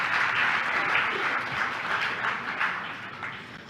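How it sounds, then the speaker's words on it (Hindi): An audience at a Jain religious discourse applauds, a dense, even wash of many hands clapping that holds steady for a few seconds at moderate loudness, with no voices over it. "दूसरों की बात सुनकर ताली बजाने में बड़ा आनंद आता है।"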